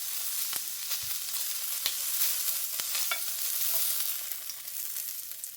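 Wild duck breast sears in a hot pan, giving a dense steady sizzle with a few faint taps and clicks scattered through it, close and even.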